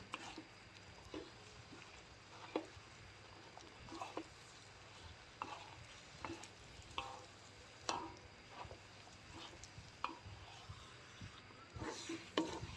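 Scraping and clacking of a utensil against a wok while stirring sticky rice, irregular strokes repeating every second or so over a low background hum, with no voices.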